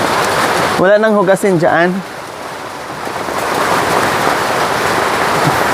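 Rain falls steadily outdoors in the mountains as an even, continuous hiss, with a close voice speaking briefly over it at the start.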